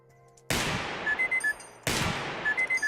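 Two sharp gunshots from a handgun in the video game Receiver 2, each a loud crack with a long decaying tail, followed by short tinny mechanical clicks, about 1.4 seconds apart.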